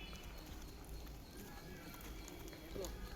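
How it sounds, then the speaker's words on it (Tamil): Hooves of a pregnant mare clip-clop steadily at an unhurried riding pace over a noisy outdoor background, with talk running underneath. "குதிரை சினையாக இருக்கிறனால அப்படியே பொறுமையாக ரைடிங் பண்ணுறோம்"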